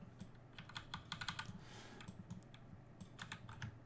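A deck of Marvel Champions cards is shuffled in a string of quick, crisp riffles and flicks, close and fairly quiet, with no voices.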